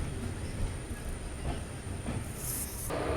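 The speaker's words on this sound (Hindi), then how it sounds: "तो यहाँ पे अपनी ट्रेन का अराइवल हो रहा है जसीडीह जंक्शन रेलवे स्टेशन पे" Amrit Bharat Express train arriving at Jasidih Junction railway station in India, a steady loud rumble of rolling wagons with hissing and faint wheel squeal throughout, no talk.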